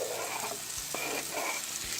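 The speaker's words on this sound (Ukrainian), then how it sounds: "хай воно там так смажиться" Shrimp with peppers and tomatoes sizzle in an uncovered pan, a quiet, steady frying hiss with a few soft clinks of stirring.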